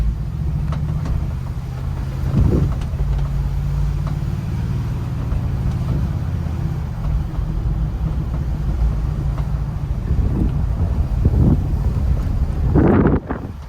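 A Mercedes-Benz G-Class AMG driving downhill around corners and braking, heard from inside as a continuous low rumble of road and engine noise with wind buffeting on the microphone.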